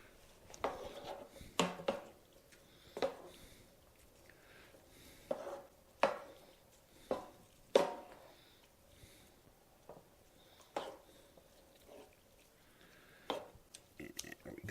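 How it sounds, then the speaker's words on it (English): A spoon works through a pot of chili, knocking and scraping the sides in soft, irregular strokes over a low, steady room hiss. "Change to a spoon because it's easier to stir"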